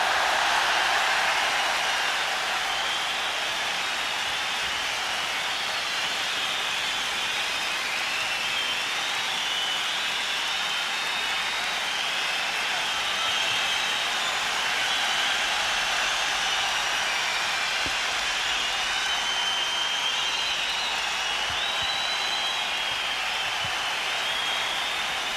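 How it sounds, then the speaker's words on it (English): Sustained applause and cheering from a concert audience, a broad steady wash of clapping that holds evenly for the whole stretch with no voices standing out. "all your applause and wild enthusiasm has been captured on tape tonight"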